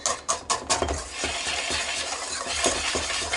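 Spoon stirring cornbread batter of flour, cornmeal and baking powder in a bowl, opening with a few quick clinks against the side and then a continuous close scraping swirl.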